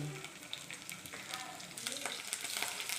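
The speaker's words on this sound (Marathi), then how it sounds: "हे बघा लसूण टाकते" Onion and garlic frying in ghee, a soft close sizzle with light stirring that grows a little brighter partway through, brief and fairly quiet.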